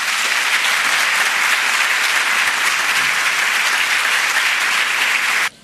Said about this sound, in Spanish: aplausos de nuevo aquí para Bernardo.